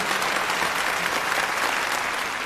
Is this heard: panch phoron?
no